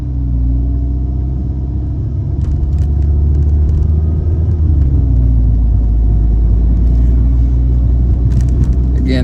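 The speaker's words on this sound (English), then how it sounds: "Now let's take a drive around the neighborhood." A car rolls steadily through a residential neighborhood of rolling hills and dense trees, its low engine and road rumble constant and close, with someone talking over it.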